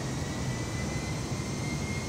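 Steady, even roar of an Airbus airliner engine in British Airways livery in Microsoft Flight Simulator 2020, heard from the external view as a continuous broadband rush with a low hum underneath.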